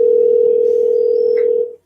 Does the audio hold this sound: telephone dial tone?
yes